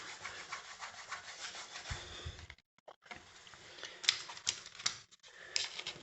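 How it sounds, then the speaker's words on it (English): A hand rubs excess glue off a freshly joined laminate floor, producing dry, scratchy friction strokes in short repeated bursts, close and moderately quiet, with a brief pause midway and no talking. "Then I just rub with my hand there. It rubs any excess glue off."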